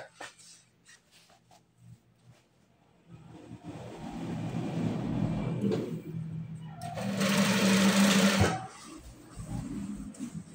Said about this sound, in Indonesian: Kita jahit saja sisi sama sisinya ya